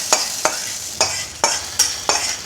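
Urad dal and curry leaf tempering goes into brinjal pitlai as a run of five sharp, evenly spaced scraping knocks, each trailing into a hissy sizzle, close and fairly loud.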